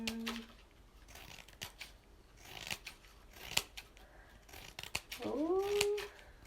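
Scissors snip through paper while a paper flower is being made, a run of quiet, irregular cuts with soft rustling. A brief higher-pitched sound rises near the end.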